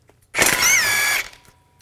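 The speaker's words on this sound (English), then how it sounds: "Take this castle nut off. Use a 17 millimeter socket." Power tool with a 17 mm socket spins off a castle nut on a 2004-2008 Nissan Maxima outer tie rod, a single loud whirring burst of just under a second that rises and cuts off into quiet.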